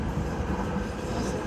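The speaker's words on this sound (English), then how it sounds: "And that's the train." A train rumbles past at a steady level near London City Airport, a continuous broad roar without a clear beginning or end.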